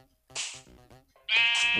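Goats in the Minecraft video game give two loud bleats, one short and then a longer wavering cry, close up and alone with no talk.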